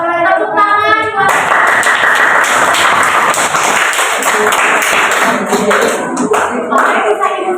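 A class of seventh-grade pupils claps together in a school classroom, a loud, fast, sustained patter of many hands that follows a brief spoken greeting and continues with scattered voices mixed in.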